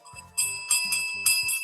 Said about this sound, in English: I had to go grab my cat's bell.